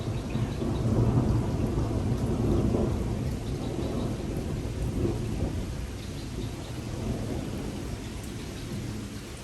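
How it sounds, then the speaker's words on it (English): Heavy downpour roars steadily with a deep thunder rumble beneath it, heard from shelter under a concrete bridge at a reservoir; loud and continuous throughout, no talking. "There was a crack of thunder. I didn't see any lightning, but still it's pouring"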